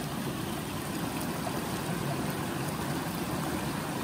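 A mountain river on a hike near Mount Gould rushes steadily and close by, a constant broadband wash of flowing water with no pauses and no voices.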